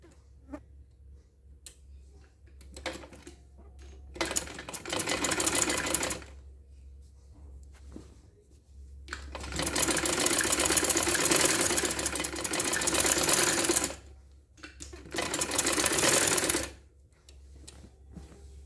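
Sewing machine stitching a folded seam on a kameez, running in several bursts of fast rattling stitches separated by pauses, close and steady, with no speech.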